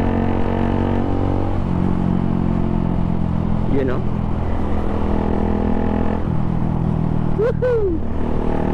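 A Suzuki Gixxer 155fi motorcycle engine hums steadily close by and rises in revs, with a couple of brief whining pitch sweeps over the constant drone and a voice talking over it.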